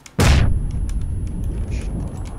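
A grenade goes off in PUBG with one loud, close, deep blast, followed by a rumbling tail and faint scattered sounds.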